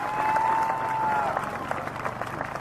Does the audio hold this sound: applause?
yes